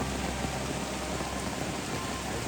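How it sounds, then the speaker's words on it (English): Steady rain pours through the Congo rainforest during a bongo hunt, a dense, even hiss of drops on leaves and ground, continuous and close with no voices. "it started to rain"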